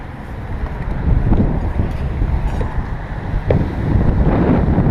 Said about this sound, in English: Okay, so it's starting to get windy.